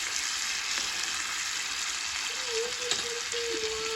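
Pasta sauce sizzling in a pan while being stirred, heard as a constant loud hiss with faint scraping and a few soft clinks, no voices.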